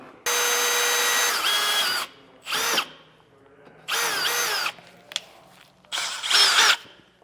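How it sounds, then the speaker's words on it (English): A power drill bores a small pilot hole into a 2022 truck's steel frame for a leaf spring suspension kit, running in four loud bursts with pitch shifts and short pauses between them. "We're going to drill a 21/64" hole in the frame here, but we are starting off with a smaller bit"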